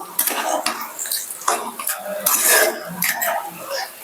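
A metal spatula scrapes and knocks against a pan, breaking boiled potatoes into small pieces for a roll filling, with repeated close, sharp clanks and steady scraping in a loose rhythm.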